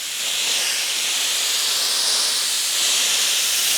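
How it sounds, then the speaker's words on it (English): A steamer sends out a steady, loud hiss without a break as it heats paint protection film on a Porsche GT3 RS. "So I'm gonna take my steamer,"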